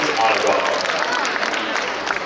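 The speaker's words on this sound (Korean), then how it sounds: "Please give a warm round of applause for the Ministry of Defense Women's Honor Guard." A crowd claps steadily for the Ministry of Defense Women's Honor Guard at the 2018 Korean military band and honor guard event at the War Memorial of Korea. The applause is dense and loud and holds evenly for a couple of seconds.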